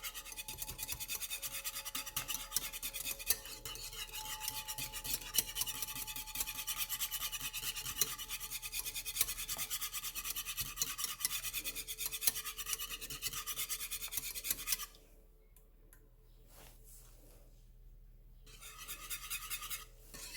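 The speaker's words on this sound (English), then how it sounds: "Whisking so it doesn't burn." A whisk scrapes rapidly and continuously against a pot of coconut banana cream pie filling, a close rasping rhythm that stops near the end, then faintly resumes.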